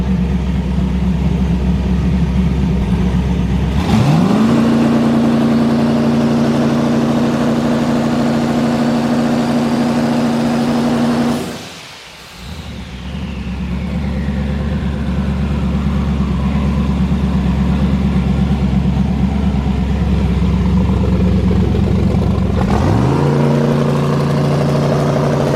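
A twin turbo Camaro holds a steady, loud two-step launch-control rev with a droning low tone, cuts out briefly around the middle, then comes back and holds again before the pitch shifts near the end.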